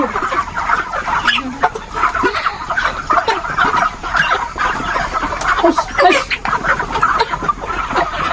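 Chickens cluck steadily and continuously close by, a busy layered flock chatter with overlapping calls that never pauses across the stretch.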